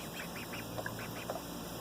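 Pet ducks quack in a short run of soft, nasal calls. They sound at middle distance over a steady background hiss.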